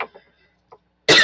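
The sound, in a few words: cough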